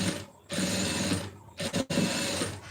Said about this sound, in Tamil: கீழே அப்படியே வச்சு நான் கீழ் தையலும் போட்டுறேன்